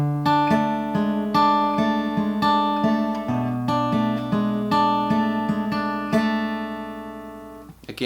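Guitar chord phrase from "Au DD" by PNL, picked arpeggio notes ringing in a steady rhythm, close and clear with no voice over it.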